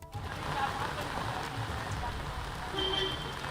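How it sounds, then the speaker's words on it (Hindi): Steady rain falls outside the Samajwadi Party office in Lucknow as a continuous, even hiss of drops on surfaces, with no pauses and a faint murmur of activity beneath. "क्योंकि लगातार बारिश भी है"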